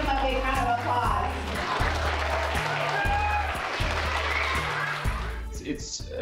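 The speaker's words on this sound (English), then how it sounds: "Let's give him a big round of applause." An audience applauds to welcome a sailor home from a year of service. The clapping is moderate and steady under loud music with a thumping beat.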